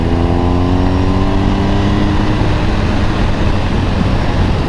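Motorcycle engine at steady close range on a twisty road, harmonics sliding down then up as the rider rolls off and reapplies the throttle, loud and continuous with no talk.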